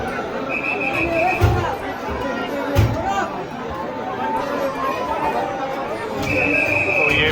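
Busy crowd chatter at Hanumangarhi temple in Ayodhya on a Saturday, a continuous murmur of many voices with occasional louder thumps and brief tonal bursts over the babble.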